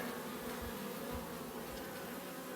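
Honeybees buzz in a steady, dense drone inside a nuc hive, close and continuous at low volume.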